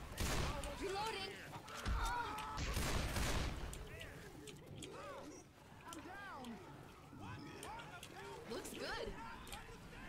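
Bursts of Left 4 Dead 2 gunfire crack loudly at the start, then fainter shots and game noises carry on beneath people talking.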